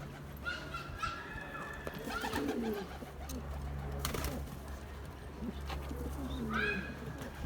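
Pigeons coo softly in low, repeated bursts over a steady background hum, with a few other bird calls nearby.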